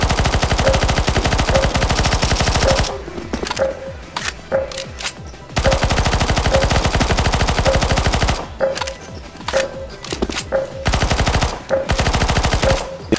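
Players in CS:GO Zombies on the Deadcore extreme-mode map shoot guns at a boss. Long, loud stretches of rapid automatic fire are broken by brief gaps of scattered single shots and clatter.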